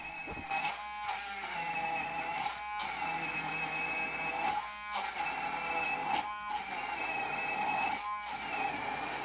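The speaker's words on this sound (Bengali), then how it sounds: "হ্যান্ড মিক্সার দিয়ে গ্রাইন্ড করে নিব টমেটো।" A hand blender whirs in repeated bursts, buzzing steadily with brief dips between pulses as it chops through ripe tomatoes.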